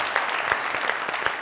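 Brief burst of studio audience clapping on a comedy talk show set, many hands at once, dense and steady with a few louder individual claps standing out.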